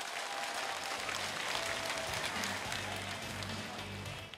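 Audience of local residents and temple devotees clapping along at a concert held inside a Buddhist temple hall, a dense, steady wash of applause heard from a moderate distance.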